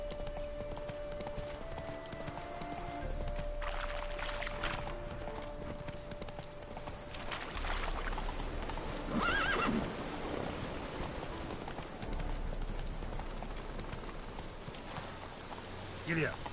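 Roach the horse in The Witcher 3 moving at pace, rhythmic hoof clip-clop with a loud whinny midway, set among game music and ambience while a voice talks over it.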